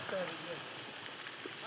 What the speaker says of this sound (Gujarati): જો મસ્ત આજે વરસાદ આવી ગયો